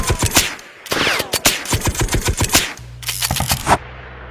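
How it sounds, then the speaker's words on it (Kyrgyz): Gunfire in the video game PUBG rings out as rapid automatic bursts of sharp, close shots. The bursts come in quick rhythmic strings with short gaps between volleys. "Бизди ата баштады."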